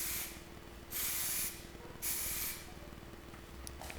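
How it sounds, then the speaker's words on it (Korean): High-pressure spray paint can used from a distance on a car A-pillar FRP speaker mount, giving two clear, loud hissing bursts about a second apart after a brief initial spray, with quiet pauses between. "일반 우리 스프레이 도장하는 거에 2배 정도 거리에서 뿌리신다고 보면 돼요"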